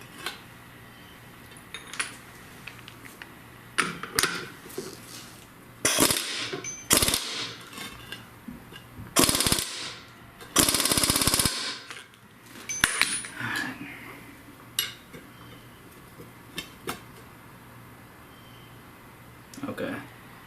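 A wrench tightens a GM 9.25 front differential from a 3/4- or 1-ton Chevy or GMC truck, giving scattered metallic clinks and short ratcheting bursts at close range against a quiet background.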